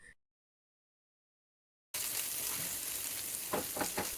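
Chillies, ginger and tamarind sautéing in a pan for a Tirunelveli-style ginger thogayal, a steady close sizzle with stirring scrapes, starting abruptly after a brief silence.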